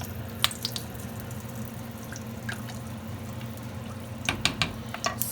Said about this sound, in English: So I'm going to add my water.